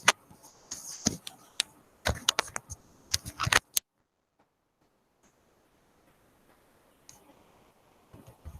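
Quick bursts of keystrokes on a computer keyboard, close and crisp, then a few seconds of near silence before a handful of faint clicks return.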